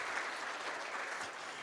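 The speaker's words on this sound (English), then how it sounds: "May I also ask you for another round of applause to White Oaks and their staff" A conference audience at an economic summit gives a brief, steady round of applause, even and continuous throughout.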